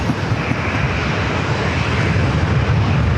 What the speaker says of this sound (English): British Airways is on the move, heading over here to the runway for a departure back to London Heathrow